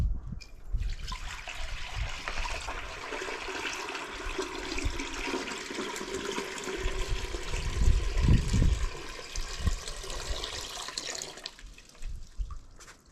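Water runs steadily into a DIY stonework dog water bowl on a rural Spanish property, a continuous splashing trickle that swells slightly midway and tapers off near the end, with no talk over it.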